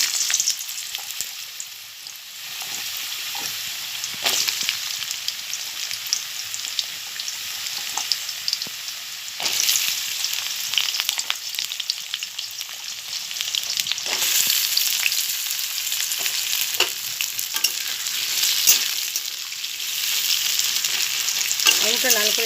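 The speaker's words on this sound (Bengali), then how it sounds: "এবার আমি এর মধ্যে কেটে রাখা আলু আর কুমড়ো এবং পুঁই শাকের ডাঁটাটাকে ভেজে একটু তুলে নেবো।" Cut potatoes sizzle and crackle in hot bhetki fish oil in a pan, a steady bright frying hiss with occasional louder spits and stirring scrapes, close by and without speech.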